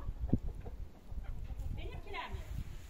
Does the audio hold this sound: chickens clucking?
yes